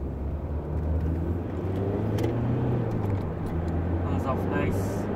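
2005 Ford Mondeo 2.0 TDCi turbo diesel pulling away, a low steady diesel drone and rising engine note heard from inside the car, with someone talking over it.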